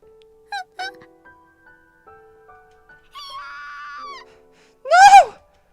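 A girl's short, sharp scream near the end, heard in the visual novel game Steins;Gate 0, after quieter voiced sounds and a sustained tone. It is loud and close and heard alone.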